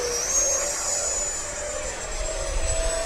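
FMS Rafale RC jet flying steep turns overhead, its electric ducted fan giving a steady, loud high-pitched whine with a sustained tone that holds throughout, heard alone without voices.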